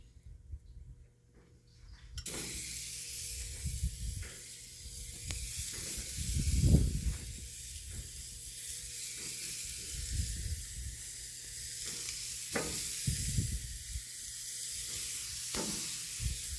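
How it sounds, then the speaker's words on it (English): Burgers hit a hot grill, and a steady, close hiss of sizzling starts abruptly and runs on, with a few low rumbling swells underneath. "we got this grill heated up enough. Clean off everything. Throw these burgers on."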